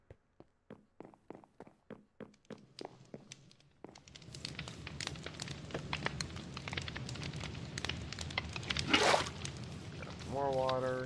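A campfire burns in Minecraft Sky Factory 4, with soft crackling and popping that builds after a run of evenly spaced tapping steps, ending in a brief louder flare.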